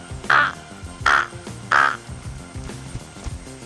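A mimicry artist voices a crow's caw, three loud, sharp calls about 0.7 seconds apart, close and clear, followed by quieter murmurs.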